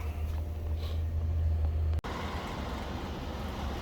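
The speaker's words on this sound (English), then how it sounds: "Y'all gonna have to excuse that noise in the background. That is the fan" An electric fan runs in the background as a steady, loud low hum and whoosh, cut by a brief dropout about halfway through before the same constant drone resumes, with no voices over it.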